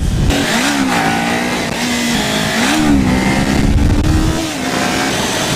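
A Kawasaki Ninja 400 motorcycle engine revs up and down several times in quick succession, a loud, close buzzing whine that rises and falls, with no talk over it.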